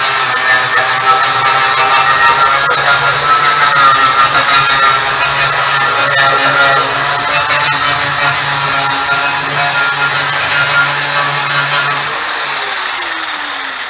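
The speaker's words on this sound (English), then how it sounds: "That grinder, for being an Arbor Freight tool, that thing does a really good job." A Harbor Freight angle grinder grinding old paint down to bare steel during a Cub build, a loud continuous whine and rasp that holds steady for most of the clip, then drops slightly as it begins to wind down near the end.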